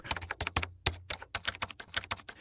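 Keys clatter on a computer keyboard while details are entered into a tax portal form, a quick irregular run of close, crisp clicks with short pauses and no talking.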